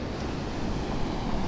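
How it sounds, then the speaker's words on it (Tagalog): Strong sea waves roll and wash steadily on an overcast afternoon, a broad continuous roar with wind buffeting the microphone, no talk. "Tuloy-tuloy lang lakas ng dagat."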